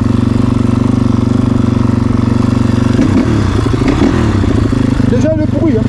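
A 450 motocross motorcycle engine running loud and close with a steady, rough, throbbing drone, a voice talking over it partway through.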